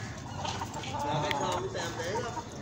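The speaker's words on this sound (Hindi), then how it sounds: "आज हमने सारे मुर्गे बाहर छोड़े हैं" A yard full of chickens and roosters just let out of their coop clucks and calls in overlapping bursts at close range, with faint outdoor noise underneath.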